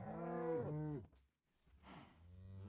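Minecraft cows moo twice in the game, a long drawn-out low moo followed by a pause and a second shorter moo, fairly close and alone.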